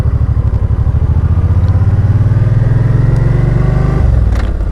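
A pre-owned 2010 Suzuki Boulevard C50T motorcycle being ridden, its engine loud and close with a steady throbbing pulse that rises in pitch as it accelerates, then drops sharply near the end as the throttle eases off.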